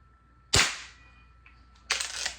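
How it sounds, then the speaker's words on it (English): Snow Peak air rifle fired twice with a lightened, modified trigger, each shot a sharp close crack with a short decay, separated by about a second and a half of quiet. "Now the trigger pull on both of these air guns is pretty light."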